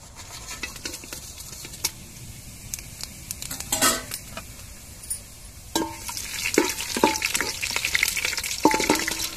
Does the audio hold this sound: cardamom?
yes